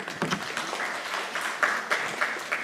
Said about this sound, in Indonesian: Aplaus untuk Prodi Peternakan